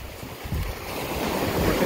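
Ocean surf and steady wind at a warm beach in Limón, Costa Rica, a continuous low rumble of breaking waves with gusty wind buffeting the microphone throughout, no talking.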